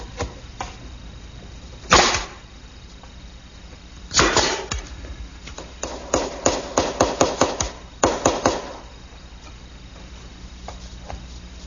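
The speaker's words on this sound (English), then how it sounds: "we just slip those in the dado and nail it with an 1¼ inch finish nail" Hammer strikes drive 1¼-inch finish nails through a wooden shelf into a dado: a few isolated blows, then a quick run of sharp, close taps with short pauses between.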